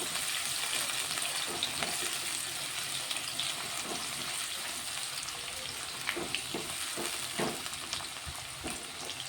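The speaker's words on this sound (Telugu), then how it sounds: "ఇది కొంచెం ఫ్రై అవ్వాలి" Onions and green chillies fry steadily in an oiled pan, a continuous close sizzle with occasional stirring scrapes and clicks throughout, no voices.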